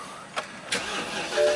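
A BMW engine cranks and fires, with a short sharp click and then a louder starter burst. The engine catches and settles into a steady mid-pitched run, close and clear, with no talk.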